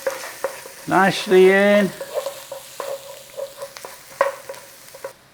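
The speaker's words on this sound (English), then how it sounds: "your garlic. Little 30 seconds on there. And then stir it in." Garlic fries in a pan with pork, giving a soft sizzle and a few light spatula scrapes; someone speaks briefly near the start.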